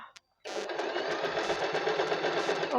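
A sewing machine stitches a buttonhole, starting after a brief click and then running steadily and close for about two seconds, quiet overall and with no talking.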